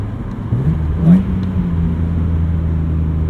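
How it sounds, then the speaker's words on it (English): A BMW E36 M3 test car's exhaust drones steadily up close, with a brief rising rev partway through before settling into an even engine hum. "you can like really hear the exhaust when it's on"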